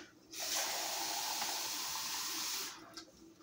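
A hot nitro engine cylinder sleeve, heated with a heat gun, is plunged into cold water, giving a close, steady rushing hiss for about two seconds before it cuts off.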